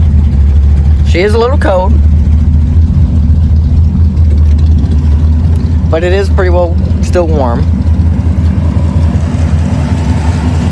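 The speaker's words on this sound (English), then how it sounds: "Turn the ignition on. Starts right up." A 1969 Charger, slightly cold, starts and settles into a loud, steady, deep idle with a slight exhaust leak at the header gasket, rumbling continuously while someone talks over it in two short stretches.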